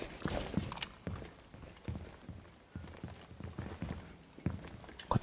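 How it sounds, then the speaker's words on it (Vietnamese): Irregular footsteps in the video game Tom Clancy's Rainbow Six Siege thud along at a steady walking pace, each step a soft knock with faint background noise between them. "Có tiếng chân."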